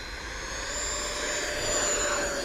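A Freewing F-14 Tomcat RC jet with twin electric ducted fans spooling up for takeoff, a steady high-pitched whine and rushing roar that grows slightly louder over a couple of seconds, heard outdoors.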